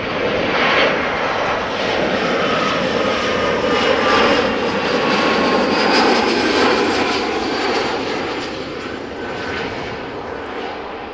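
A 12-year-old LOT Embraer 175 long-range jet airliner in Star Alliance livery arrives at Amsterdam Schiphol from Warsaw, its engines giving a loud, steady, close roar that fills the whole stretch with no talking.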